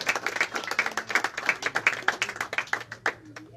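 Brisk clapping from a small crowd at an awards ceremony honoring a young under-14 champion athlete, a steady patter of hand claps that thins out and stops near the end, with no talking.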